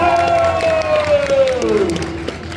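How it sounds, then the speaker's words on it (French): A cosplay contest crowd at a French convention claps and cheers for a World of Warcraft mage entrant, a loud burst of applause heard under a presenter's amplified voice and a sliding tone. "Faites un tonnerre d'applaudissements s'il vous plaît pour Zegoro en mage de World of Warcraft."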